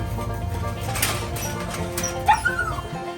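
A dog at a family farm gives short yips and whimpering barks, close by, with faint background voices and a couple of sharper cries near the end.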